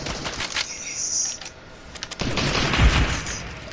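Gunfire aimed at the player in the Fortnite video game, several close cracking shots and bursts amid a scrappy game mix, getting louder toward the end.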